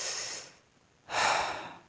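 A person exhales slowly and then draws in a long, deep breath, two close, airy breaths split by a short quiet gap.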